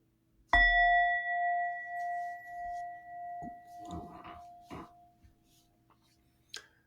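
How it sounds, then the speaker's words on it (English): A single meditation bell is struck once, ringing out clearly with a bright metallic tone that slowly fades over several seconds while a few faint soft bumps and rustles sound nearby. "one bell to start, one bell to stop."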